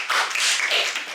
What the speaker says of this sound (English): It's good to get applause before I even begin.